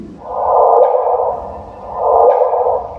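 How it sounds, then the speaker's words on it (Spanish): A gravitational wave sonification: two smooth synthetic tones swell and fade one after the other, each a soft rising whoosh-like chirp, with nothing else around them. "Ese es el sonido de una onda gravitacional."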